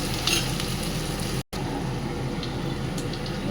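Chopped onions fry in a hot pan for a taro dish, giving a steady, close sizzle that carries on evenly with one very short break.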